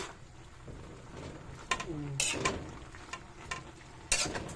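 A spoon stirs kangkong adobo simmering in a pan, giving faint scrapes and a soft bubbling sizzle, with a few sharper clanks against the pan.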